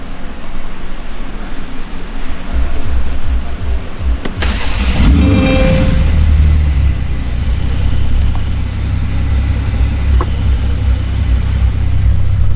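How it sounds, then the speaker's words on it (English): A Porsche 992 Carrera with an IPE full exhaust system starts up loudly, a whirring crank bursting into a deep booming flare, then settling into a steady, heavy low rumble at close range. "Start up."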